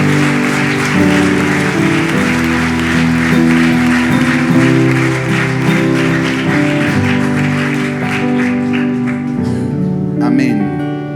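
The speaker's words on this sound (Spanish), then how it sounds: "Y denle un fuerte aplauso a Jesucristo esta noche." A church congregation applauds during an evening sermon, sustained clapping under music, loud and steady before thinning out toward the end.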